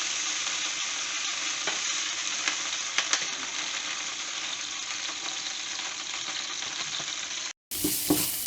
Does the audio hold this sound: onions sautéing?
yes